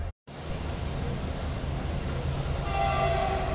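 A train in Gujarat with its locomotive just attached, about to depart, rumbles loudly and steadily close by, and a sustained horn joins near the end.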